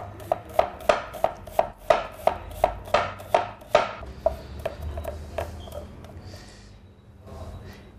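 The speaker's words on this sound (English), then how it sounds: "I'll start cutting my onion up, cutting them up in thin slices" An onion is sliced thin on a cutting board, about fourteen sharp, evenly spaced knife chops in a quick rhythm, close and crisp, slowing and thinning to a few softer cuts before stopping.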